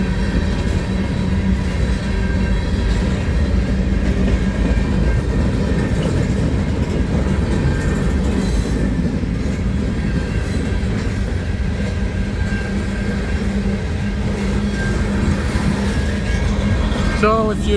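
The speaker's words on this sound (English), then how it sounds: "I've always wanted to take a video of a train here." An EXO commuter train rolls past the Stinson garage in Saint-Laurent, Montreal, a loud, steady rumble of rail cars and wheels sustained close by for the whole stretch, ending with a brief high wheel squeal.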